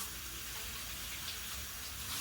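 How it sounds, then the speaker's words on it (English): Hands are rinsed quickly under a running kitchen tap while lasagna is being assembled at home, a steady close water stream hissing evenly throughout, with no voices over it. "I washed my hands real quick."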